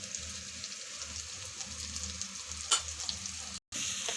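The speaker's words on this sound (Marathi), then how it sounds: "सगळं घालून छान परतून घेऊ" Vegetables with green chilies and chili powder sautéed in a pan for veg pulao, giving a steady close sizzle with a brief clatter of the stirring utensil and a momentary cut-out near the end.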